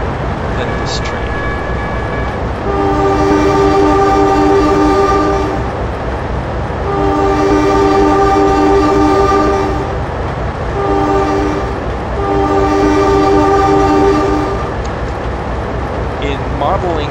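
A Trainz simulator train on the Maryland & Delaware Railroad rumbles steadily along the track while its horn sounds in several long blasts, with rhythmic rolling clatter beneath.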